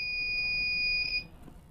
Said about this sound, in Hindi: तो आप सभी देख सकते हैं हमारा अलार्म ऑन हो गया है।